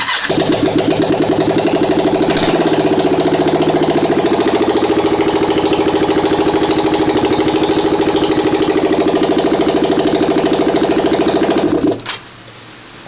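A Kawasaki ER500 motorcycle engine runs with no exhaust fitted, a loud, rapid, raw chattering putter held steadily for about twelve seconds before it abruptly shuts off.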